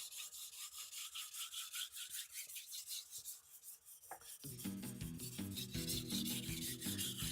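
A knife blade rasps in steady back-and-forth strokes across a wet whetstone, repeated close scraping passes that grow louder and denser partway through, with no talking.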